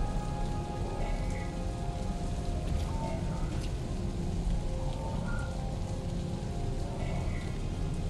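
Steady, dense rainfall from the game Homefront: The Revolution patters continuously on surfaces at an even level, with no voices over it.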